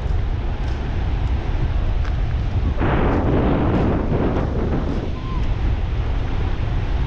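Ocean waves wash onto a beach at very low tide, a steady roar with a swelling surge in the middle, heavily buffeted by wind noise on the microphone.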